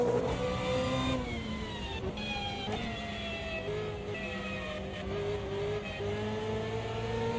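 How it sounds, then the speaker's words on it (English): Race car engines in a DTM video game race at Spielberg scream continuously, pitch rising and falling as the throttle is worked through a corner, several cars layered together. "Listen to the throttle control on turn 2"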